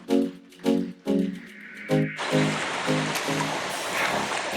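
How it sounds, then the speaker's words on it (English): Broadband rushing water from a waterfall on the Niobrara River near Valentine, Nebraska swells in and stays steady, with a few harmonic vocal-like bursts near the start over the flow. "we got to a second waterfall"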